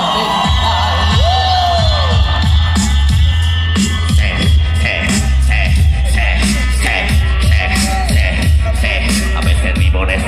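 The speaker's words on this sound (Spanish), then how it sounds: "un aplauso para ella" Concert crowd at a tattoo music festival cheering and whooping, a loud dense wash of shouts and applause with scattered yells, filling the whole stretch.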